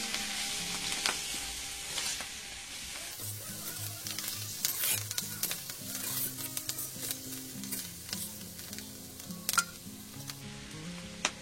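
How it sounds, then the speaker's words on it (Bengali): Fried potato and eggplant pieces sizzle again in a pan with spices while cooking a Bengali dry fish chorchori. A steady close frying hiss runs throughout, broken by frequent clinks and scrapes of stirring, with no voices. "আবার একটু মশলার সাথে ভেজে নেব আলু বেগুনটা।"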